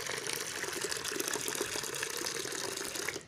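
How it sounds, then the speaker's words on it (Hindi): Tap water pouring steadily into a bowl that already holds some water while mixing tile bond, a continuous close splashing gush that cuts off at the end. "तो हम और पानी डाल देंगे"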